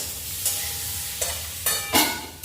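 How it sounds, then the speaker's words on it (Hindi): Spiced karela bhujia fries in a small amount of oil, with quiet sizzling broken by several scraping stirs of a spatula in the pan. "इसमें मैं थोड़ा सा मसाला डालूंगी, ज्यादा मसाला नहीं डालूंगी, और कम ऑयल में बना रही हूँ"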